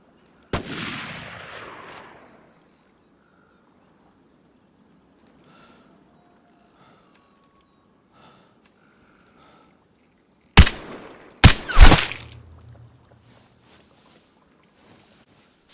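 Gunfire in the online shooter Vigor: one loud shot rings out and decays, followed later by a rapid burst of several sharp, close shots, with quiet game ambience and mechanical ticking in between.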